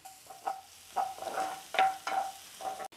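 Onion and garlic sauté in a little oil, heard as a quiet sizzle with repeated stirring scrapes of a spoon in the pan, in irregular bursts and no talk.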